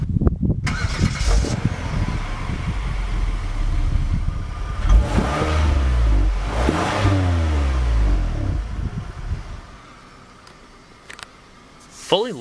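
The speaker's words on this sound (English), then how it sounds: "Just put your foot on the brake, hit the button to start." A 2012 Kia Sorento SX AWD starts with push-button ignition: a loud crank catches into a rising rev, then settles toward idle, heard up close.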